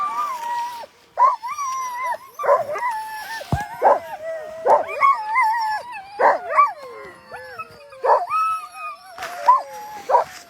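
Sled dogs at the Tolsona Lake checkpoint of the 2022 Copper race, in minus 40 degree cold, bark and yip in a dense chorus. Sharp, repeated yelps and howls come from close by over about ten seconds.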